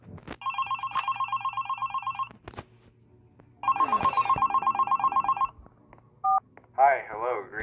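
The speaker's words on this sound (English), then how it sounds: "we have to listen to the phone call." In the horror game Nightmare in the Sewer, a phone rings in two long trilling bursts with a pause between them, followed by a short beep and a voice starting to speak.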